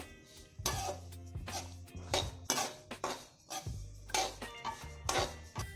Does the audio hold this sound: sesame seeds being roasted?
yes